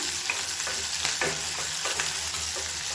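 Onion and garlic fry steadily in a hot pan for a kulambu, a continuous broadband sizzle with a few brief louder stirring scrapes, close and alone with no talk.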